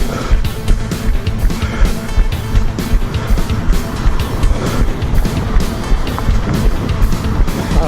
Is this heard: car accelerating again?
yes